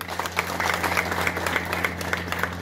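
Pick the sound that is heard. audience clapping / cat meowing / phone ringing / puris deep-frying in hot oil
audience clapping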